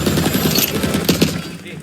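Rapid bursts of gunfire from a Roblox shooter game, crackling in quick succession at a loud level with speech mixed in under the shots.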